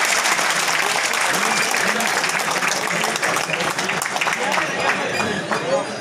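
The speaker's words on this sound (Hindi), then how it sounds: "जोरदार ताली बजाकर उनका स्वागत करें" A gathered audience claps loudly and continuously to welcome a state minister at a public event, with a voice talking over the applause throughout.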